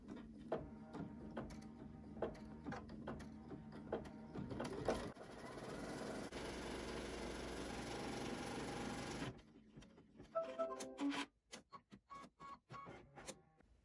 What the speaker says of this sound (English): We're going to stitch a tack down stitch onto the fabric and the batting